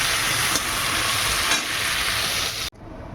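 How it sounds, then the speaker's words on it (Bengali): Prawns fry in a hot pan with a steady, loud sizzle that hisses continuously for most of the stretch, then cuts off abruptly near the end, leaving a quieter background. "এই যে চিংড়ি মাছগুলো ভেজে নিচ্ছি"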